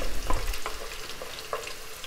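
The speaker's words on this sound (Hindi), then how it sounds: "इसको हम 1 मिनट के लिए फ्राई करेंगे।" Chopped onions frying in melted ghee for a tinda gosht, with a soft, steady sizzle and a few light stirring scrapes, close but fairly quiet, and no one speaking.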